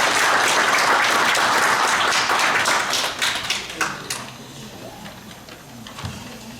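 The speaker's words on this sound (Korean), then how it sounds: "큰 박수 부탁드립니다" Loud audience applause at a Buddhist forum in Korea, dense clapping that thins and fades after a few seconds into scattered claps and room noise.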